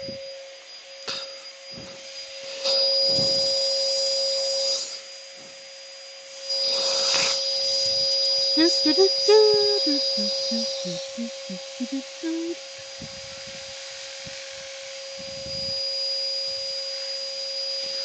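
An electric sander runs with 400-grit sandpaper for a final smooth finish, giving a steady motor hum with stretches of gritty rubbing and a few brief tonal squeaks in the middle.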